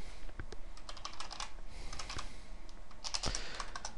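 Quick, uneven clatter of keys on a computer keyboard, close and fairly loud, with bursts of rapid strokes and short pauses between words.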